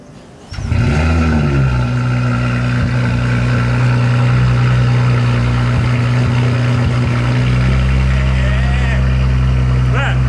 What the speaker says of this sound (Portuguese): eu já vou dar uma ligadinha aqui pra esquentar o motor da Porsche